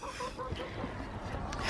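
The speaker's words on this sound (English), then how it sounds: "Chickens." Hens going broody in early spring cluck and murmur close by, soft and irregular over a short stretch with faint background noise.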